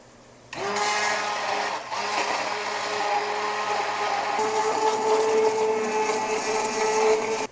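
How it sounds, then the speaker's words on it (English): An immersion blender whirs through split pea soup in a kitchen pot, switching on abruptly and running as a steady, close, loud motor drone with a slight dip and pitch shift partway through. "we're going to use our handy dandy immersion blender"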